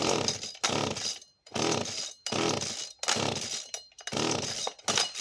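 A Husqvarna chainsaw engine is pulled over and run with the choke and kill switch worked, giving several loud bursts of rough running broken by short silent gaps, close by and with no voices.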